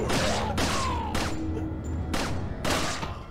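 Five sharp, loud gunshots from Resident Evil 4 go off in an uneven rhythm, each a broadband crack with a short decaying tail.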